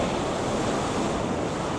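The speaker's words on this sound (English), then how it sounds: "The waves are nice today" Ocean waves break on a Florida shore in a steady, loud wash of surf mixed with wind rushing across the microphone, with no talking.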